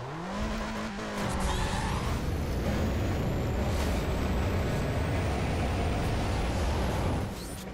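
A stanced Mazda MX-5 engine in Need for Speed World revs up loudly and holds a sustained, rising roar with tire noise, close and continuous.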